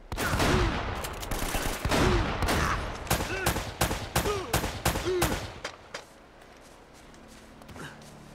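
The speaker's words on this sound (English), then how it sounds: "Getting shot from all angles." Enemy gunfire erupts in Uncharted: Drake's Fortune, a dense volley of loud, rapid shots cracking from several directions for about six seconds before thinning to a quieter, scattered tail.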